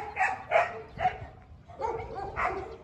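Several Doberman dogs bark at a large kennel, about five sharp, close barks in uneven bursts with short gaps, loud and without talk.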